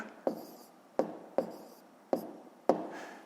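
Pen strokes on paper make five crisp, quiet taps spaced about half a second apart, each short and dry against near silence as an answer is written down.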